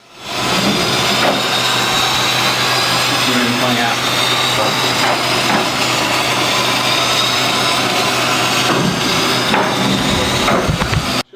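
A VW GTI MK7 with a newly installed AWE Tuning exhaust running nearby, a loud continuous engine drone with rougher bursts and clatter throughout, no voices over it.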